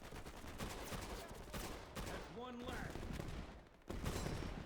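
Rapid bursts of gunfire in the World War II video game Easy Red 2, with clustered shots, sharp cracks and a faint voice in between.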